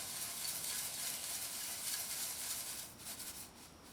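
Seeds and a sticky seed power ball mixture are stirred in a bowl, giving a steady close rustle and gritty swish that eases off near the end.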